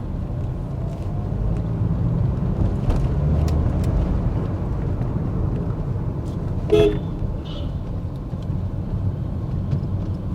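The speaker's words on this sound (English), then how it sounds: "I'm going to have some hard acceleration." A car engine under hard acceleration gives a steady, loud low roar with road noise that holds for the whole stretch, with a brief higher-pitched sound near the middle.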